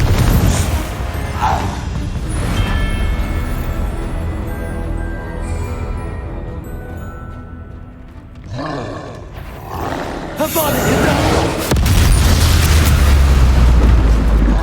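Confringo fire-spell blasts in the Hogwarts Legacy video game, loud booming explosions with roaring rumble, several bursts including a heavy low boom near the end, over continuous game sound.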